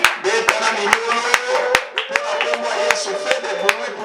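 Sharp, steady claps ring out from a church congregation at a French-language worship service praising the name of Jesus, with voices carrying underneath throughout.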